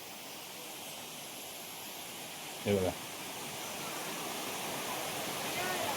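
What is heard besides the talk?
river flowing beside Someshwar temple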